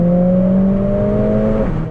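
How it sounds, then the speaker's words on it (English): A Mercedes A45 AMG S with its exhaust set to race mode holds a loud, steady droning engine note close by, the pitch creeping slightly upward before dropping off near the end. "it is time to take the A45 AMG out for a drive"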